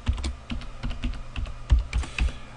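Quick, close keystrokes on a computer keyboard as a password is typed in, a steady run of crisp, irregular taps with no talking.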